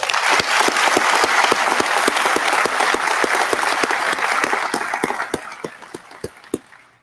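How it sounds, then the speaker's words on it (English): Loud crowd applause at a JCSO Session 58 graduation, honoring the class officers: a dense wash of clapping with some rhythmic unison beats, fading over the last two seconds to a few scattered claps. "Let's give them a round of applause."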